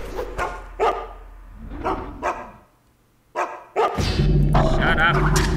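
A guard dog in the stealth game Mark of the Ninja barks several times in sharp, separate bursts with short pauses between them, ending in a denser, louder flurry of noise.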